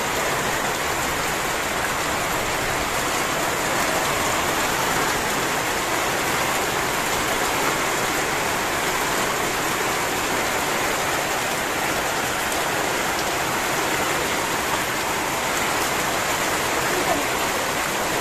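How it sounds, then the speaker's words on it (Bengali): Heavy rain pours steadily for the whole stretch, a dense even hiss of water hitting surfaces outdoors on a hot day, with no pauses and no voices. "অনেক বৃষ্টি হচ্ছে"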